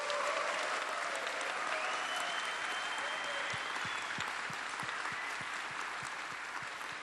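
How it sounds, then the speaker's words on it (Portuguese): Audience applause honoring a man named Leonardo at a conference talk on empathy and care, a dense sustained clapping from a crowd filling the room, steady throughout with some sharper individual claps standing out toward the end. "Yo pediría un aplauso como un honor a Leonardo que reconoció esto."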